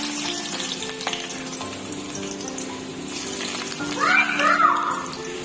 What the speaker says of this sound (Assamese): এইফালে ধুনীয়াকৈ এতিয়া তেলত পিঁয়াজখিনি ভাজি আছোঁ